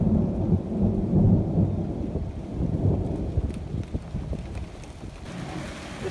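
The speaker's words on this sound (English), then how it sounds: "But the wind is kicking right now. I mean, it is just throwing the rain." A summer thunderstorm rumbles with deep thunder over heavy wind-driven rain and gusting wind buffeting the microphone, loud at first and easing slightly, with no talking.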